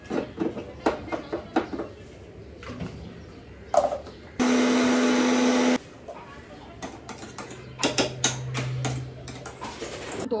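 A mixer grinder grinds spice paste in a home kitchen, giving one steady motor whirr of about a second and a half between quieter kitchen clatter.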